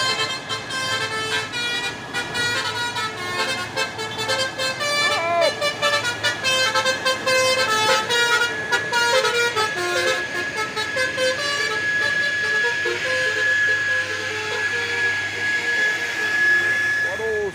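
Hino trucks, among them a Hino Lohan CPO tanker truck, roll past on an open road with steady engine and tyre rumble, a horn-like tone near the end, and a voice talking over the traffic.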